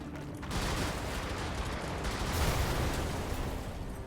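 Dense, sustained gunfire rakes toward the player in Brigador, a continuous rattling barrage of shots and blasts that starts after a brief lull and keeps going loud and steady to the end.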